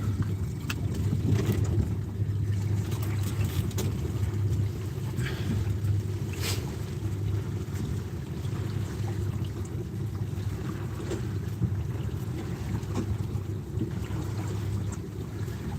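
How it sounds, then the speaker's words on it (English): Strong wind buffets a small fishing boat off Portsmouth, a continuous low roaring rumble with gusty swells, loud and close, with no talking. "that wind's proper picked up"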